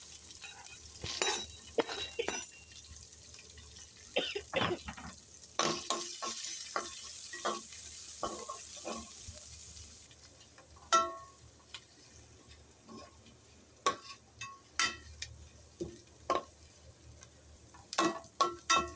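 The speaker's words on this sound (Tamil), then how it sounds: "எல்லாம் போட்டு வதக்கவும்." Onion, green chili and curry leaves sautéing in a pan, with a soft steady sizzle beneath repeated sharp scraping and clinking strokes of a spoon stirring at irregular intervals, close by and with no talking.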